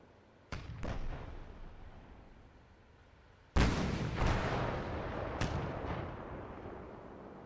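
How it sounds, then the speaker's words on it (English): Incoming gunfire and explosions in a tank combat video game, a defensive battle with an M1A2T Abrams tank in Taiwan: a sharp blast, a second crack, then a heavy explosion followed by rumbling and further bangs, loud and close, with no talk. "We're taking fire here."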